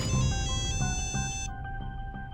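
A phone rings with a repeating electronic tone sequence over a low background hum, the tones pulsing steadily before the upper harmonics cut off midway while the ring continues.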